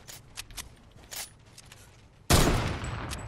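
Gunfire in a video game shooter: a loud, sudden burst of rapid shots fills the final second, following quieter scattered thumps and distant pops.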